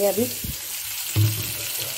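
Water poured into a hot pan of frying radish creates a brief sizzling hiss and splash, with someone speaking briefly over the kitchen sounds.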